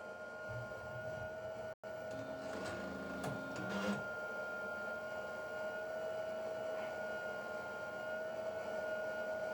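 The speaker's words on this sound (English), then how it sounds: "my printer's warming up." A printer warming up gives a steady whirring hum with a sustained tonal whine, plus a brief burst of mechanical clatter early on, continuous at moderate level with no talking.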